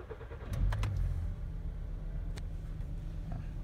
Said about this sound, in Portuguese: Eu vou ligar o carro